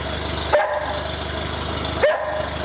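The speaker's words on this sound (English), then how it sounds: "dog barking" A dog barks twice, sharp single woofs about a second and a half apart, heard at moderate distance over the steady hum of a small engine idling on a knock-off Zenith carburetor.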